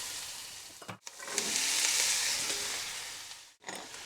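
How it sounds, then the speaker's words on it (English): Diced onions and other vegetables fry in olive oil in a pan, giving a steady, close, hissing sizzle that swells and briefly drops out twice. "The veggies have been in there for about 4 to 5 minutes, cooking nicely"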